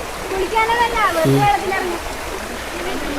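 Water in a forest stream rushes and gurgles in a steady broadband wash while people talk nearby over the flow.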